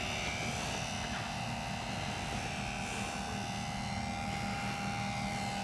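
A HobbyZone Super Cub S RC airplane flies low overhead with a steady, buzzing electric propeller whine, faint and constant throughout without voices.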